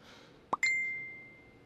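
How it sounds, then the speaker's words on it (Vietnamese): A phone's text message alert in an office-drama setting: a soft plop followed by a single bright chime that rings on and slowly fades, clear and close with no talk. "Đấy, có tin nhắn đến rồi đấy."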